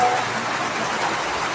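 Heavy rain falls in strong wind, a dense, steady hiss and patter on surfaces that lasts throughout without a break.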